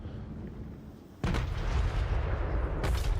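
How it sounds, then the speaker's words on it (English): Grand cannons of Cathay in Total War Warhammer 3 firing in battle: a deep booming blast lands over a rumbling background, followed by a second sharp report near the end, loud and without voices. "Man, I love the sound of the grand cannons from Cathay."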